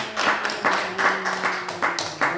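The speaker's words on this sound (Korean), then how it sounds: "우리 박수로 환영하겠습니다." Korean church congregation clapping to welcome a pastor before a special song, coming in several distinct bursts of close clapping separated by short pauses, with some voices underneath.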